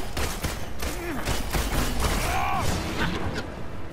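Gunfire in the Marvel's Avengers beta on PS4, rapid bursts of shots crackling in a busy battle mix with whooshing effects and brief voice fragments throughout.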